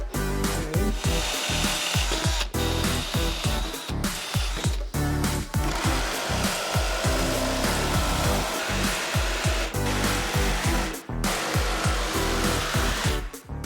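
Power drill and saw working through wood while upcycling bedroom furniture, a loud, continuous whirring and grinding broken by short pauses and repeated bursts over the whole stretch, no talking.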